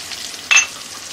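Tomatoes with red chili, turmeric, coriander powder and salt frying in a pan, a soft sizzle with one brief louder stir-and-hiss burst in the middle, alone without talk.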